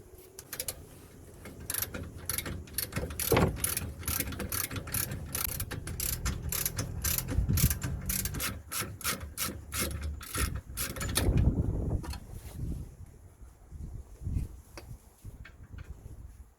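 Ratchet clicking and mechanical clatter while removing the bottom 19mm nut on a Toyota Corolla's rear suspension, with a broken coil spring and leaking shock absorber, a fairly loud run of close ratcheting that thins out toward the end.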